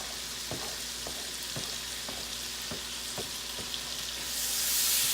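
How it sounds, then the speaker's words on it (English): Turkey bacon fries in a pan of butter and oil with a steady, close sizzle, broken by regular light scrapes or taps about every half second, and the hiss swells louder toward the end. "So we're going to put our turkey bacon in first."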